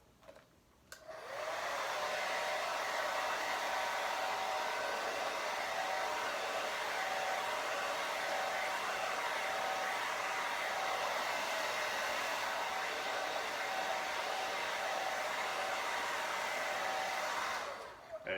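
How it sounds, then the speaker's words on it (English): A hair dryer blows steadily to dry paint on a canvas, switching on with a sharp start and holding a constant, even whoosh and hum for about sixteen seconds before cutting off, with no talking. "Get a hair dryer."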